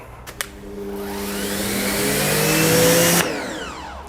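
Water is sprayed to wet down the side panel of a car before sealant is applied. A steady, loud hiss of spray with a droning pump whine swells for about three seconds, then cuts off.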